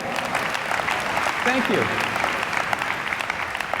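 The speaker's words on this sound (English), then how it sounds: "Give them a round of applause." Audience applause for two volunteers at a comedy keynote talk, steady close clapping throughout while someone speaks briefly over it.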